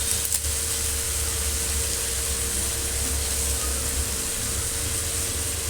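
Red chillies, green chillies and a bay leaf sizzle in hot oil in a pan, a steady close hiss running without a break.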